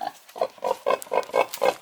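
A large pig in Armenia grunts repeatedly in a quick rhythmic series of about seven low snorting oinks, close and clear, with no talking.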